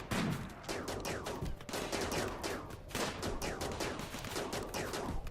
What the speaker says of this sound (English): I guess they're shooting at our turrets